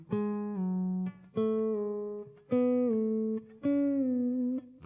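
Electric guitar string pre-bent and then picked, four separate sustained notes in a row, each struck sharply and ringing out clearly with a slight pitch drift before the next.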